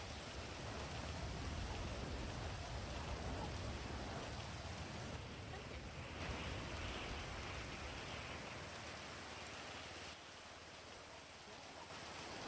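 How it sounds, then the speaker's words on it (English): Steady rain pours in a roleplay video game, a dense, even hiss of falling drops that fills the whole stretch at moderate level with no speech over it. "Why can I just hear the rain?"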